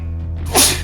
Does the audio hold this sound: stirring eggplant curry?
no